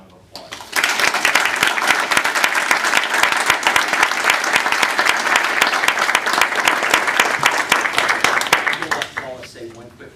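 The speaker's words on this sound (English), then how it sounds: "let's give them a round of applause." Loud sustained applause at a school district board meeting honoring a championship team, dense clapping from a large room rising quickly, holding for about eight seconds, then fading out.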